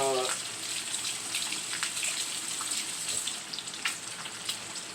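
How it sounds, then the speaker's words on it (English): An egg is rinsed under a running kitchen tap, a steady close stream of water with light splashes and a few small knocks, after a short vocal sound at the start. "Wash this egg off real quick."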